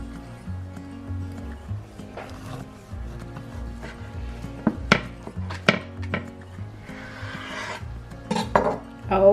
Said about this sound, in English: Which one should we cut open? I don't know, let me get a knife.